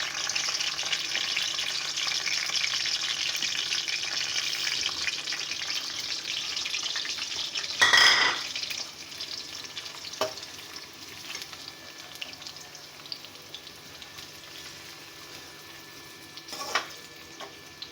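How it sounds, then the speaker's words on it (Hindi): Onions sizzle steadily in hot ghee in a pan, a continuous close hiss with a brief louder stir or scrape partway through and a few faint clinks. "प्याज डाल रहे हैं, घी गर्म हो गया है,"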